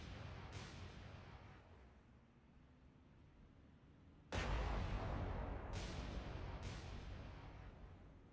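Torpedo explosions in the naval combat game War on the Sea, several sharp distant blasts followed by one heavy, loud detonation with a long roaring rumble, then two more bursts.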